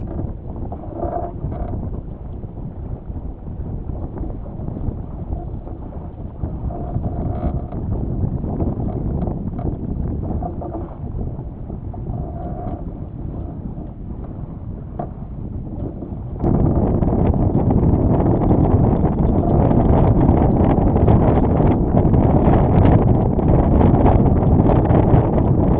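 Steady wind gusts roar across a sailboat as a storm approaches, a broad rushing noise that jumps abruptly louder partway through, with rigging and hull rumble mixed in and no voices.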